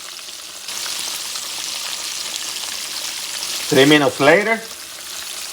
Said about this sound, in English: I'm going to cook the other side somewhere between 3 to 4 minutes because you have to make sure the pork chops are cooked internally.